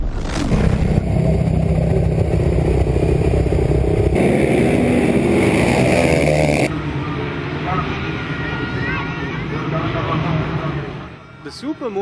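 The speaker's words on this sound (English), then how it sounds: "The Super Motard, up to 450cc motorbike class, provided its usual mix of action and skill at Foxhill." Super Motard motorbikes of up to 450cc race on the Foxhill track, engines buzzing and revving loudly past, with a narrator talking over the noise until it fades toward the end.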